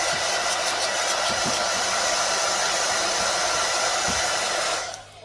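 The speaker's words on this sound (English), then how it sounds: "I'll tell you when I finish using the hairdryer" A hair dryer blows loud and steady as a continuous rushing whoosh for several seconds, then cuts off abruptly near the end, with no one talking over it.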